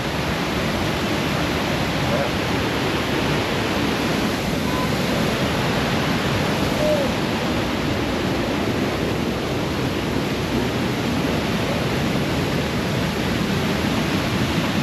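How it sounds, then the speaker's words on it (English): A powerful small waterfall roars as a steady, loud, dense wash of falling water, unchanging for the whole stretch with a little wind buffeting the microphone. "It's a really powerful little waterfall, isn't it?"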